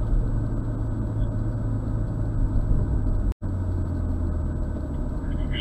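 A BMW car is driven through a slalom course at a performance driving school, with a steady close engine and road rumble throughout and a brief dropout near the middle.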